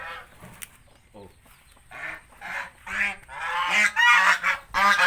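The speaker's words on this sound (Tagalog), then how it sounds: "Dito tayo sa bibi." Farm ducks (bibi) kept among goats and chickens give repeated nasal honking calls, some close and loud, others softer, with no talk over them.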